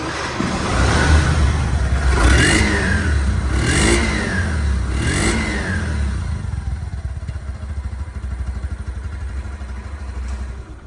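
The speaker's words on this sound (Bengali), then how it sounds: "তিন হাজার প্লাস চলা বাইকটির সাউন্ড পরিবেশন" A Yamaha Saluto 125cc motorcycle engine in good, showroom-like condition idles and revs up three times in quick succession, loud and close, then settles into a steady idle.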